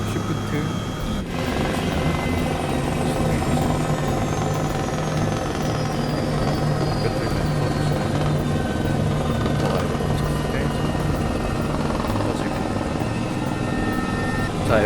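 An H135 helicopter engine starts in Microsoft Flight Simulator 2020 with a loud, continuous turbine roar and rising whine. Someone speaks over it.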